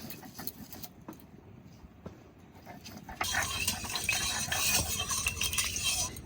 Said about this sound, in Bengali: কড়াই গরম হয়ে গেছে, এবার সর্ষের তেল দিয়ে দেবো।